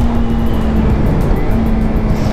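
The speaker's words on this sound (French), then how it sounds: "Et le bruit est pas dégueu. Après, ouais, ça reste échappement d'origine" A Suzuki GSX 250 R motorcycle on its stock exhaust gives a loud, steady engine drone heard close up while riding, with a constant hum and no clear change in pitch.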